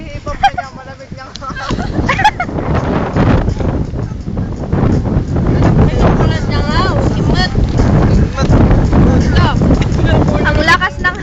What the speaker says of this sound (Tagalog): Ang lakas ng hangin ever.